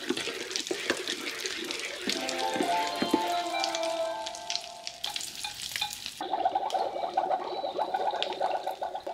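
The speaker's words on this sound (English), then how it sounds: "Let's stir it up." A toy potion stirred inside a plastic cauldron from a Disney Encanto magical cauldron playset, giving a wet, bubbly sizzling swirl that runs steadily throughout, with a louder burst of fizzing toward the end.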